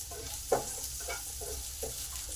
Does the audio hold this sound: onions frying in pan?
yes